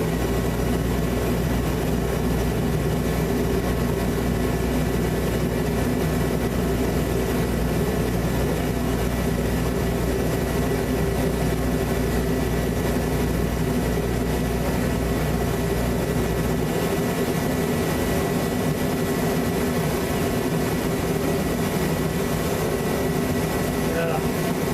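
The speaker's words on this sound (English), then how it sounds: "And here comes the jet." A jet aircraft engine runs throughout as a loud, steady low rumble with a broad roar on top, easing off toward the end, while people talk over it.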